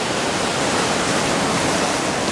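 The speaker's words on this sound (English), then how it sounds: "Watching the waves coming in and trying to capture them." Ocean waves breaking on rocks along a coast, a continuous, loud broadband roar of surf with no pauses, heard alone without voices.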